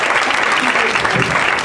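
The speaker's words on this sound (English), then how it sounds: "Keep clapping" Audience applause fills a comedy club after a stand-up set ends, a steady dense clapping close and loud with some crowd noise mixed in.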